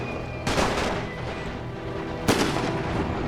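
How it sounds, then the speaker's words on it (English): Two heavy booming volleys of musket gunfire in the strategy game Napoleon: Total War with a Great War mod, the second sharper, each followed by rumbling decay. "Firing's going on."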